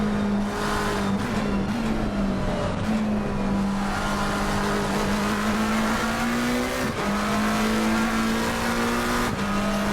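A race car engine howls steadily at high revs through a lap of Bathurst in Assetto Corsa Competizione, with brief pitch dips at gear shifts and constant loud drone, no voices.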